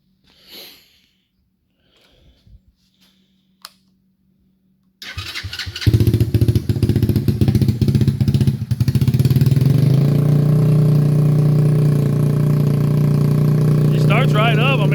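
A small engine fitted with a Nibbi 24mm carburetor, run straight out of the box on full choke, cranks and catches after a few quiet bumps. It then settles into a loud, steady, close idle with no talking.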